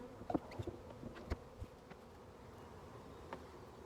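Honeybees at an open beehive during an inspection, a faint buzzing hum under scattered knocks and handling noises from the hive.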